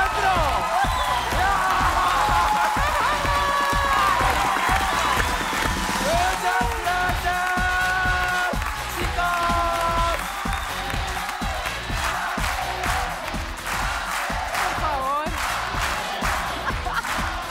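A talent show audience at a Got Talent audition applauds and cheers loudly in a sustained wash of clapping and shouts, with music playing underneath.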